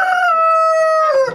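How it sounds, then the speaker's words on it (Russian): A rooster on a village farm gives one loud, close crow, a long sustained harmonic call that breaks off at the end. "Разорались петухи."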